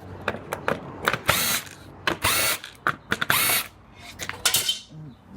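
Ratchet wrench backing out 10 mm bolts from the interior door trim of a Mercedes-Benz C250: a series of short, close bursts of rapid clicking with brief pauses in between, no talking.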